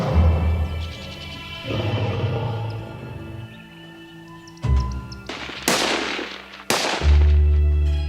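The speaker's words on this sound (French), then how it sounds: "Les coups de feu prennent tout le monde de court." Several sharp gunshots crack out one after another with uneven gaps, loud and close, over a low rumbling background.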